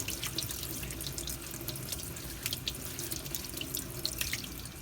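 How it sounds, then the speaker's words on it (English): Corn on the cob is rinsed under a running kitchen tap, a steady close splashing of water into a sink with small irregular drips and spatters throughout, no voices. "you want to clean them up a little bit and give them a quick rinse"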